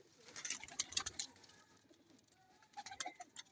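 A Teddy pigeon of the Salara Teddy breed coos in a few soft, repeated calls, with other bird chirps around it, no voices.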